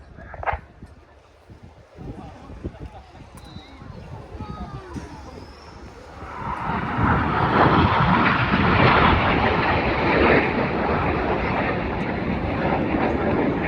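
Red Arrows jets fly a display at RIAT 2025, a distant roar that builds into a loud sustained rumble midway. An announcer talks over the jet noise.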